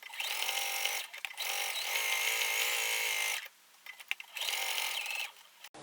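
A sewing machine stitches a reversible tote bag in steady whirring runs, stopping briefly twice with a few clicks between bursts, close and clear with no speech.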